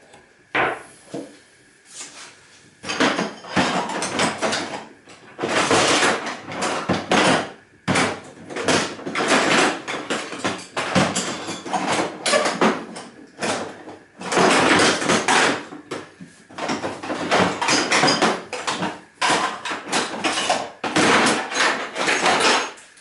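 Clips and connectors are pried loose while scrapping a server UPS for copper and gold recovery, giving irregular bursts of close clattering, knocking and scraping with short quiet gaps between them.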